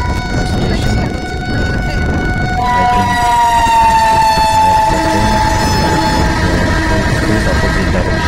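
Two trains passing each other in opposite directions on a journey toward Kolkata, a loud steady rumble of rolling wagons with a long horn blast sounding throughout and sliding in pitch as they cross.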